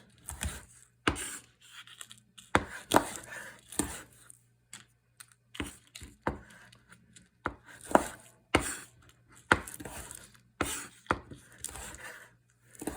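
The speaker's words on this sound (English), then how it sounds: "We're not going to chop these too much." A knife chopping vegetables for a numbing, spicy Sichuan eelpout dish, irregular sharp taps on a cutting board in short bursts and single strikes separated by pauses, close and fairly quiet.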